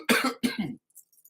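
Two quick, close coughs from one person, sharp and clear in a quiet room, followed by near silence.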